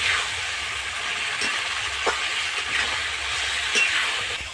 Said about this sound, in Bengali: পটল আর আলুটাকে মশলার সঙ্গে বেশ কিছুক্ষণ ধরে আমি নেড়ে নেব।